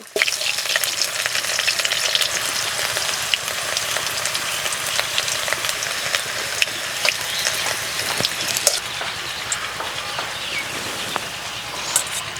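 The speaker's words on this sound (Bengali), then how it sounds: "ফুলকপিতে হালকা কালার চলে এসেছে, এবার নামিয়ে নেব।" Cauliflower florets frying in a pan of oil, a loud continuous sizzle with occasional clicks of stirring, close and steady without talk.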